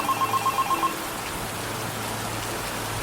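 A telephone rings in a phone box in a Half-Life 2 mod: a quick series of regular electronic rings for the first second, then it stops, leaving a steady rain-like ambience.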